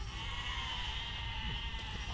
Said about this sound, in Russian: Мне овцы мешают.